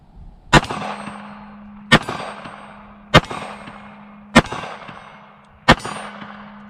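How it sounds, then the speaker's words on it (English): Five sharp, loud gunshots at a steady pace of roughly one every 1.3 seconds from a Sig Sauer P365 pistol in .380 firing Remington UMC ammunition at an outdoor range, each crack followed by a ringing decay. "Right now I'm just going to shoot at the big silhouette target down there just to see if I can find my aim on it"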